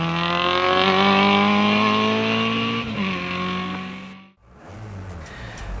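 A space frame Maguire Mini races up the Gurston Down speed hillclimb, its engine screaming loud and close as the revs climb steadily. Pitch drops at gear changes, and the car roars on after a brief cut.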